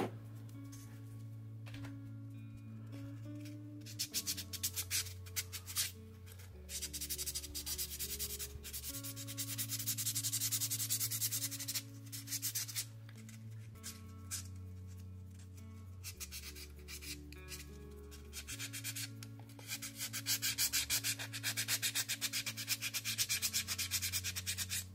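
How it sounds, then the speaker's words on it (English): Fingernails with cuticle oil are filed and buffed in steady back-and-forth rasping strokes, close and fairly quiet, with an electric nail drill humming underneath at shifting speeds and no speech. "So this is what we've got after filing and buffing with cuticle oil"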